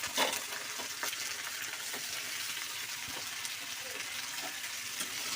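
Ivy gourd (kunduli) pieces and onions sizzle and fry steadily in a pan in a home kitchen, with occasional stirring scrapes over a constant hiss, close and fairly loud, with no talking.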